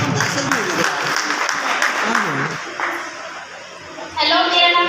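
An audience of children and parents claps at a motivational education session, a crowd's applause mixed with chatter and voices, followed by a brief sharper burst of clapping near the end.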